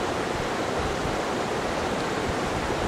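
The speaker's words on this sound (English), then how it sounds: "water is now starting to trickle into the lower part of the housing" Water trickles through filter paper into the lower part of a sampler housing, a steady, even hiss of flowing water heard up close, unchanging and with no talking.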